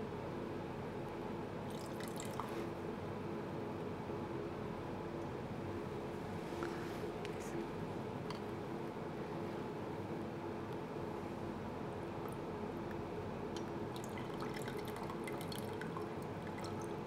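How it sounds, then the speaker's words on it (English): Water trickles gently into a glass measuring flask at a chemical engineering lab's mass transfer and diffusion unit, added slowly without swirling; a soft, steady pour with a few faint drips over quiet background noise, no talking. "Then we should add the rest of the water to the measuring flask without any swirling or turbulence."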